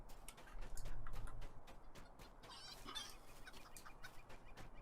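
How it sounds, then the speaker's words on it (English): A rooster in the Lord of the Rings Online video game, clucking and calling faintly in the game's soundscape, with no talking. "Where's the rooster?"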